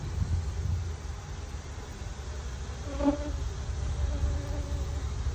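Honeybees at an opened, neglected hive during an inspection give off a steady, close insect buzz that hums on throughout, with a few brief louder tones rising above the drone.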